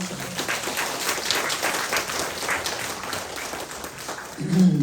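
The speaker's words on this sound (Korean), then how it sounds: "우리 주님께 박수 한번 쳐야 되겠죠?" A church congregation claps together in sustained applause at a Saturday prayer meeting, dense and steady throughout, with a voice briefly rising near the end.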